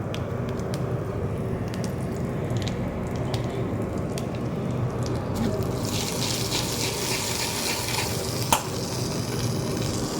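Nigella seeds and asafoetida sizzle in hot oil in a pan, a steady, close crackling hiss that grows brighter and busier in the second half, with no voices.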